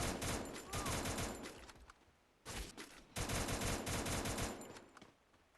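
Rapid automatic gunfire rattles in the mobile video game Free Fire, in two dense bursts separated by a short pause, loud and close.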